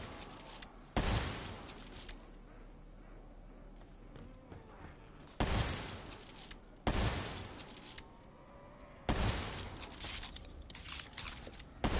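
Gunfire and a fast reload in Black Ops 3 zombies on the Der Eisendrache map, sharp bursts of shots in four separate clusters with quieter clicking and movement between them.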